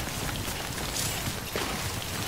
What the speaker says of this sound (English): Could wait out the rain over there.